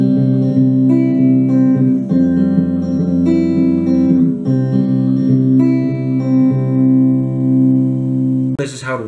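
Another section of a song on electric guitar: sustained ringing chords and picked notes played continuously, loud and close, ending with a brief scrape.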